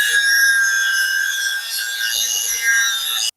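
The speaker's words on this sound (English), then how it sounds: "Let's pull out the big guns. Have the Dremel here." A Dremel rotary tool grinds on the broken escapement shaft of a 93-year-old Klein Continental clock, a steady high-pitched rasping whine held close and loud for the whole stretch with no talk.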